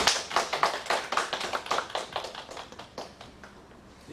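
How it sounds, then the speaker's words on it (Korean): Applause in a church service for a scholarship award, steady rhythmic hand clapping from a small congregation, fairly close and moderately loud, thinning and fading toward the end. "박수."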